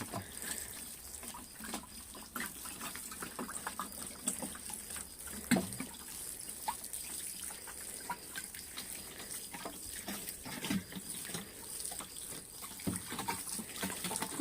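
Water trickles and splashes onto seedlings in a spring greenhouse, a faint continuous dribble with scattered small drips and patters, heard alone without talk.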